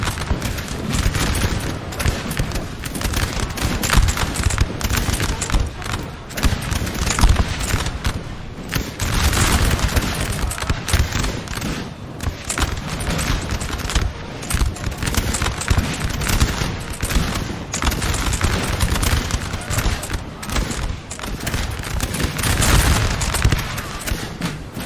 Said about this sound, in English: These poor guys getting shot up by Denmark.